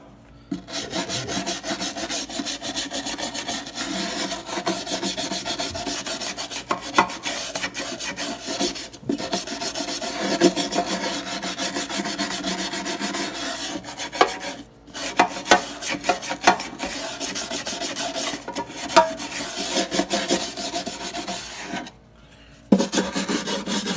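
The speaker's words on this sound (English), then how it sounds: "So I like to use a wire brush to clean up." A wire brush scrubs old gunk and putty from a kitchen sink drain opening during a garbage disposal install, a steady rasping scrape with brief pauses, close and loud, heard alone.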